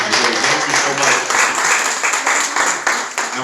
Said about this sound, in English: Let's give our hostesses a hand clap also for serving.